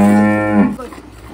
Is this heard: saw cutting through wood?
no